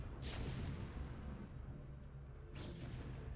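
Siege tanks and dragoons battle in StarCraft with heavy, booming artillery-like blasts and dense rumbling combat noise throughout, peaking at the start and again toward the end.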